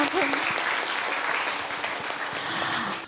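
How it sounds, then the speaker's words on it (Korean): Steady audience applause fills a lecture hall during a talk by a Buddhist monk, dense and continuous at close range, with a brief voice heard over it near the start. "박수 한번 부탁드리겠습니다."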